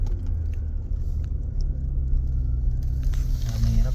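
Car engines idling in a snowstorm traffic jam, a steady low rumble close by with faint clicks and a slight rise in engine noise toward the end.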